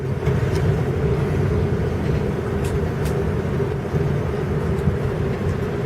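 Wood-gas powered 1997 Dodge Dakota pickup pulling out of the Argos Fairgrounds, its steady engine and road rumble droning continuously from close inside the cab, with faint rattles and no talking.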